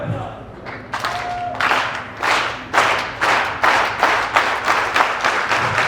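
A real estate event audience performs a super clap: a few slow, loud, rhythmic group claps that speed up into quicker, regular claps, with a voice briefly heard at the start.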